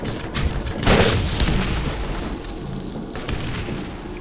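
Shotgun blasts in the video game Borderlands 1: a heavy booming shot near the start, a second sharper report a couple of seconds later, and rumbling game ambience between them.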